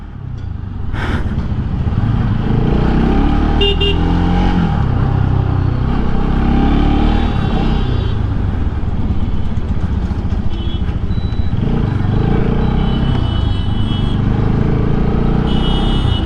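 Pulsar RS200 motorcycle with a persistent rattling fault, its engine running loud and close throughout, a dense steady mechanical drone with no speech.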